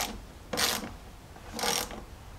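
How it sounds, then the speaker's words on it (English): A ratchet wrench tightens a 13 millimeter nut on a battery power cable in a Dodge Ram, giving two short bursts of rapid clicking close by, separated by a brief pause, with no talking. "I'm going to tighten up this nut, and that's going to be a 13 millimeter"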